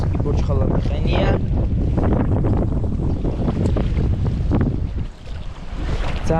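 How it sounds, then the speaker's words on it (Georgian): Strong, cold wind blows across Lisi Lake during a fishing trip, roaring and buffeting the microphone in a constant heavy rush of broadband noise that dips briefly near the end. "ძალიან ქარიანი და ცივი ამინდია"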